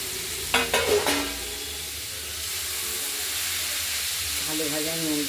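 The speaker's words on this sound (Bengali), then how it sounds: "কিছুক্ষণ এপিট ওপিট করে নাড়াচাড়া করব" Cabbage, potato and peas stirred in a hot pan, a steady broad sizzle with a few scraping knocks early on, and a voice talking faintly near the end.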